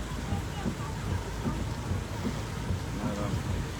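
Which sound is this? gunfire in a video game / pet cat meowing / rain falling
rain falling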